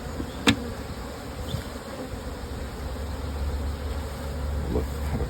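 Honeybees hum in a steady, close drone as they are moved from one hive box to another, with a few brief knocks and faint handling noises over the buzz.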